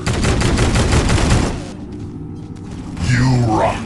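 Gunfire in the mobile shooter Guns of Boom, a dense rapid burst of automatic shots that stops abruptly, followed by a quieter pause and a swelling game effect, all loud and close.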